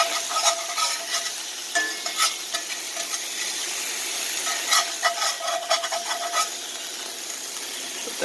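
A brisket birria taco tortilla frying in a pan of oil, a bright continuous sizzle with crackling bursts and occasional scraping, close and loud, with no one speaking.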